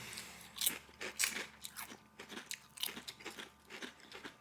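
Tim's potato chips crunch loudly in close, repeated bites, followed by steady chewing at an irregular rhythm with no talking.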